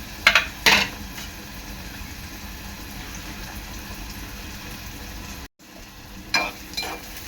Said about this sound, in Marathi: कांदा आणि मिरची हे चांगलं शिजवून घेणार आहे